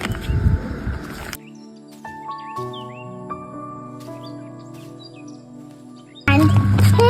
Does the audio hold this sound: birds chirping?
yes